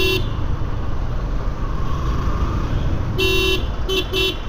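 Jammed road traffic near Banani, Dhaka, under a steady loud engine and road roar, with a car horn honking one long blast followed by two short toots near the end.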